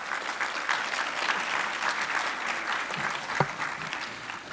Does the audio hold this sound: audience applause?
yes